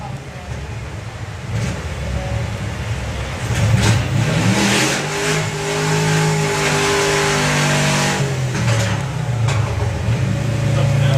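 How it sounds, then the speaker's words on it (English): A Toyota Supra launches and accelerates down a drag strip at a drag racing event, its engine note rising steadily through the gears over crowd and track noise, loud and sustained. "Georgina Smith with the Supra once again."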